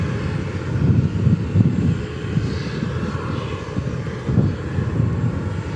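Lufthansa Airbus A340 taxiing at DFW Airport, a steady loud jet engine rumble and whine that swells and eases slightly, heard from nearby with no talking.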